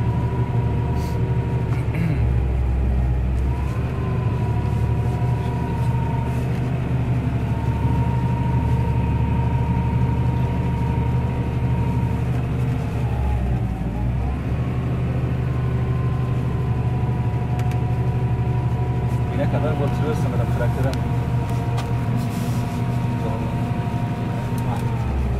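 A 200-horsepower Massey Ferguson 7720S Next Edition Dyna-VT tractor drives across a hard, dry field, giving a loud, steady engine drone with low rumble and shifting tones throughout, briefly straining as the wheels slip.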